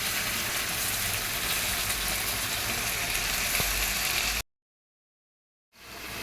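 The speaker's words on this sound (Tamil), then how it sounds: "நம்ம இதெல்லாம் வதக்கிக்கணும்." Onion, ginger and garlic sautéing in a pan for prawn kulambu give a steady, close sizzle that cuts to silence and then fades back in.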